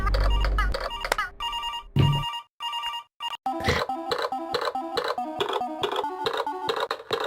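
A telephone-themed character in the Incredibox Sprunki music game plays rhythmic ringing and trilling phone-bell patterns, looping as a bright, repetitive electronic beat.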